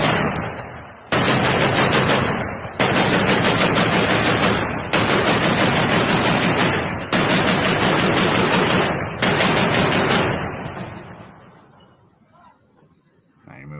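Loud, close gunfire in combat during the Russia-Ukraine war roars in five long, sustained volleys of rapid automatic fire, separated by short gaps, then fades away at the end.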